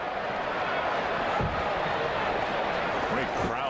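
A crowd of over 40,000 at a Milwaukee at Minnesota baseball game in 2009 fills the stadium with a steady, dense roar of cheering and murmuring that holds evenly throughout.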